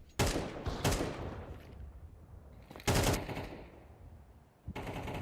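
Rapid bursts of pistol fire in a Counter-Strike match, several sharp volleys separated by short pauses, loud and close with a ringing tail after each burst.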